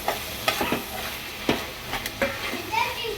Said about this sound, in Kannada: ಸಾಂಬಾರ್ ಪೌಡರ್, ಅರಿಶಿನ, ಗರಂ ಮಸಾಲ, ಚಿಲ್ಲಿ ಪೌಡ್ರು ಇಷ್ಟನ್ನು ಹಾಕೊತಾ ಇದ್ದೀನಿ.